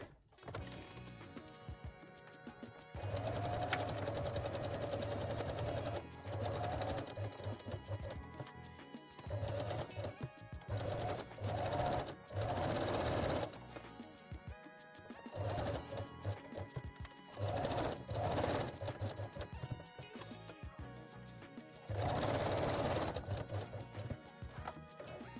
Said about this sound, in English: I will also sew in place the other edges with the long zigzag stitch, oh, with the long straight stitch